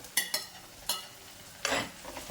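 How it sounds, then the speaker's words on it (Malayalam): Tomatoes go into a frying pan of Kerala-style spicy fish curry base with curry leaves, making a few sharp stirring scrapes and a short burst of sizzling, close and without talk. "നമുക്കിനി തക്കാളി ഇടാം."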